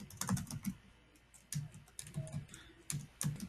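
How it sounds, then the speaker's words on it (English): Fingers tap out words on a computer keyboard in quick, close bursts of clicking keystrokes, separated by short pauses, loud and clear with no talking. "I don't know why my fingers don't like typing that."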